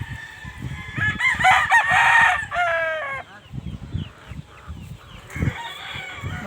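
Roosters on a game farm, one crowing loudly and close with a long drawn-out call, followed by clucks and fainter crows from other birds, while a voice talks faintly underneath.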